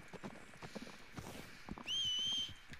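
Horse hooves clip-clop steadily in Red Dead Redemption 2, close and moderately loud, and a high whistle-like tone briefly rises over the hoofbeats.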